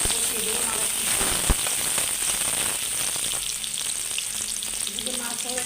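Chopped onions frying in oil for a pangas fish dish crackle and hiss steadily up close, with a brief sharp clink early on and faint voice-like sounds in the background.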